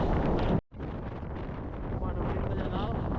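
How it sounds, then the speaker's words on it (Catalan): Strong wind on a snowy mountain in the Pyrenees, a loud roaring gust that buffets the microphone, with a brief dropout, then keeps blowing steadily. "Segueix apretant un vent de l'hòstia."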